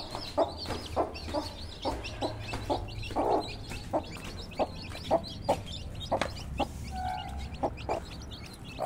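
Hens and their chicks cluck close by, a run of short repeated clucks and murmurs spaced irregularly, with thin chick peeps scattered between them.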